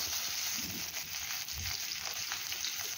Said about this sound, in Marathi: आता यामध्ये आपण 2 पळ्या तेल टाकून घेऊया आणि हे तेल गरम झाल्यानंतर यामध्ये आता आपण उभा बारीक चिरलेला कांदा टाकून घेणार आहोत